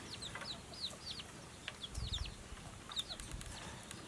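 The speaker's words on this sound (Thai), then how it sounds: "เนี่ย ก็เริ่มเป็นไก่หนุ่มกันแล้วนะครับ" Young crossbred chickens in a large, tall cage cluck and chirp in short repeated calls, fairly faint and at some distance, over a low background hum.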